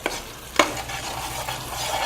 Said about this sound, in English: till it leaves the sides, you keep frying this